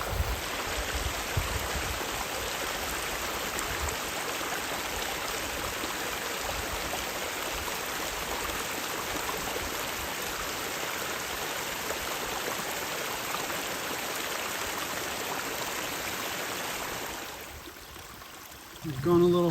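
Water pours steadily over rocks beside an Appalachian Trail path turned into a creek bed, a continuous loud rushing wash that holds even for most of the stretch before dropping off near the end.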